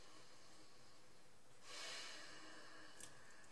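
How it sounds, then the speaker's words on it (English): One deep breath taken during a meditation exercise, a quiet airy inhale rising through the nose and holding faintly against a near-silent room, close and soft with no talking. "So if you're focusing on your breath, you breathe."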